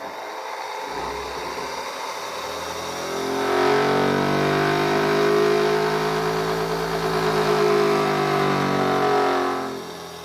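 A motor hums and whines as it spins up, its pitch rising and holding steady, then fading down near the end, with no talking.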